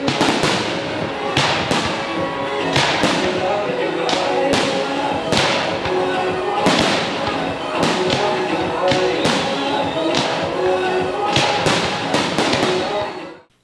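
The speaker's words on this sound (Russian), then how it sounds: "Завершился праздник впечатляющим огненным шоу и долгожданным салютом." Continuous fireworks display closing a town festival in Iskitim, with rapid, loud bangs and crackling bursts, densely layered and sustained throughout, cutting off abruptly at the end.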